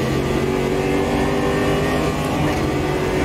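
Race car engine in the sim racing game Automobilista 2, revving hard and steadily under throttle, loud and continuous throughout.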